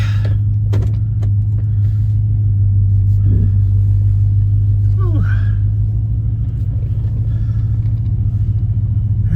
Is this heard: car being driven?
yes